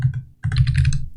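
Close, clacky keystrokes on a computer keyboard while code is typed, a couple of light taps followed by a quick dense run of keys, loud and alone.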